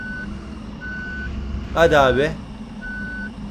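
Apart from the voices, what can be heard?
bus reversing beeps in Bus Simulator Ultimate video game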